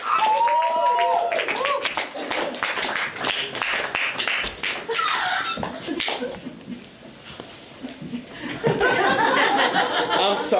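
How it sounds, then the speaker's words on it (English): A live club audience claps and cheers for a performer, with bursts of applause and laughter mixed with voices talking over the crowd. "it's just a reflex when people are cheering"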